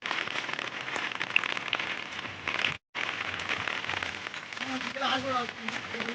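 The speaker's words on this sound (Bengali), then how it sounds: "তো হাওয়া হচ্ছে, প্রচুর বৃষ্টি হচ্ছে" Heavy rain with gusting wind pours steadily over a street outside, a dense continuous wash of drops with a brief dropout midway, while a person talks faintly underneath near the end.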